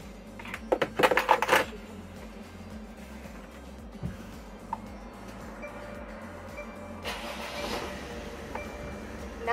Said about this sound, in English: Let me now start the car to lock all the doors.